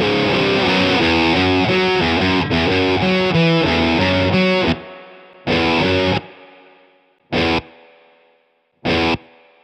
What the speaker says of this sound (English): just plugging my guitar straight into my interface, and that's the sort of sound I'm getting